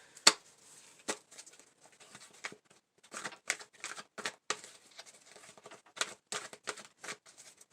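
Tarot cards being shuffled, soft irregular riffles and flicks with scattered sharper snaps, faint and close, with no talk.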